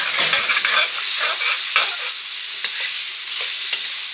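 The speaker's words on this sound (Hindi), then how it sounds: "इसमें आधा किलो हम आलू ऐड करेंगे और इसको अच्छे तरीके से भून लेंगे।" Chicken and half a kilo of potatoes fry in a pot with a steady close sizzle while being stirred, the spoon adding light scrapes and clicks over the hiss.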